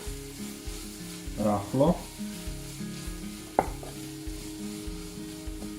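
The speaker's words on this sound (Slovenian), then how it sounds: "Med praženjem čebulo večkrat pomešamo." Onion frying in a pan for onion soup with apple, a steady close sizzle under a low background hum, with a couple of louder bursts as it is stirred and a sharp knock from the utensil against the pan.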